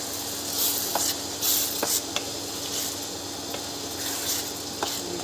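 Tomato puree sizzling in a pan of partly cooked vegetables for red sauce pasta, a steady hiss broken by a few scraping stirs of a spoon against the pan, close and moderately loud, no talk.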